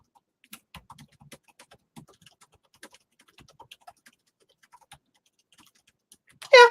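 Sparse, irregular keystrokes tap on a MacBook Pro keyboard, close and crisp with pauses between, ending in a brief louder burst.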